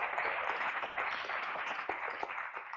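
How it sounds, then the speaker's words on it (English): A conference audience at a Geneva livestream event on the future of work for African youth breaks into sustained applause, a dense steady patter of many hands clapping throughout, moderately distant. "I think you deserve a great round of applause."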